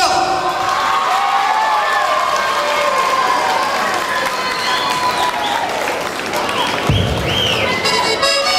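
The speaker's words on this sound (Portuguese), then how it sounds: "eu peço que vocês batam uma grande salva de palmas" An audience at a Portuguese community show in Gonesse bursts into sustained clapping and cheering, dense and continuous throughout, with whistles and shouts rising above the applause.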